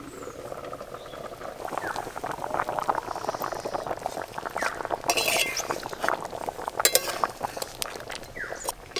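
A pot of katla fish curry at a lively boil: a dense, steady bubbling and popping with small clinks, up close and loud the whole time, with no speech.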